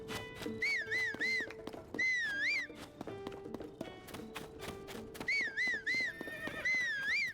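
A horse in Zelda: Tears of the Kingdom whinnies repeatedly in short wavering neighs, mixed with hoof clip-clops and light game sound effects, clear and close throughout.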